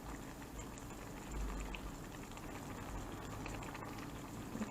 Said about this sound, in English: So more of this water can boil down. And that way it can steam fluffy.